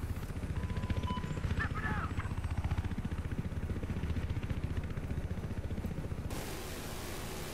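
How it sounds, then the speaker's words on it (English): A helicopter in Battlefield 4 drones steadily with a rapid low rotor chop throughout, set in a rooftop multiplayer match amid game noise and clatter. "There's a helicopter"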